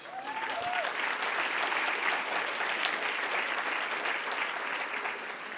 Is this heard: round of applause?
yes